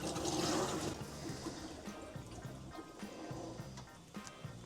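Water rushes and trickles steadily through the pipework of an ATAG Priority heating system as it fills and pressurizes, a continuous hiss with faint knocks and drips, louder at first and then settling.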